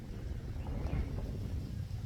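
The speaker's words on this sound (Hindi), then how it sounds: "बहुत हवा चल रही है" Strong wind gusting across an open farm field where tomatoes are being planted, a loud steady rumbling buffet against the microphone that swells and eases slightly, with no voice over it.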